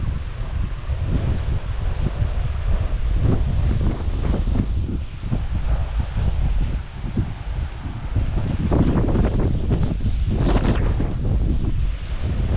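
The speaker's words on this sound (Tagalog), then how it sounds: "lakas pa naman po ng hangin" Strong wind over a rice field buffets the microphone in continuous heavy gusts, a low roaring rumble with no voices.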